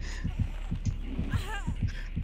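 The killer's proximity heartbeat warning in Dead by Daylight: a steady, heavy double-thump pulse repeating about every half second, loud and close, with faint game ambience and a brief tonal sound in the middle.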